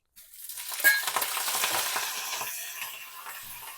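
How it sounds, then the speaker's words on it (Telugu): Curry leaves, dried red chillies and garlic drop into hot oil in a wok with a sudden loud crackle, followed by a steady, bright sizzle that gradually settles. "బాండీ పెట్టి ఆయిల్ వేసాను అందులో కరివేపాకు ఎండుమిర్చి వెల్లుల్లిపాయలు వేస్తున్నానండి"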